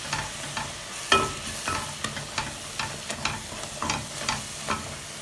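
A spoon scrapes and stirs ground turmeric, black pepper and garam masala in a hot pan for beef rice, giving a series of sharp clinks and scrapes over a soft background sizzle.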